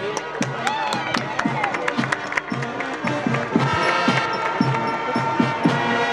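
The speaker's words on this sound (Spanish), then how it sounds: "Aplauso para los ganadores." Clapping and cheering from a crowd at a horse racing trophy ceremony for the José Pedro Ramírez Grand Prix, with sharp claps scattered through steady crowd noise and talk mixed in.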